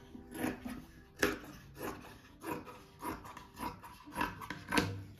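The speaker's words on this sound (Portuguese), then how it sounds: "Daí eu vou cortando assim, ó, faixinhas dessa largura" Scissors cut knit t-shirt fabric into strips with a series of soft, rhythmic rasping snips, about one every half second, close and fairly quiet.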